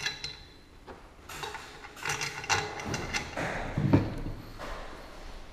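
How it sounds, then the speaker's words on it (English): A cordless screw gun drives long hex-head fasteners into a dolly during assembly, giving bursts of whirring and ratcheting, a few clunks as each screw seats, fairly close with a quiet pause between. "And your cordless screw gun."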